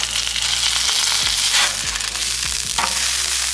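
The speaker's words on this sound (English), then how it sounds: "All right, we're gonna flip our burgers" Ground beef burgers sizzle loudly in a pan just after being flipped, a dense continuous hiss and crackle close up, with a few low clunks from the pan or spatula and no talking.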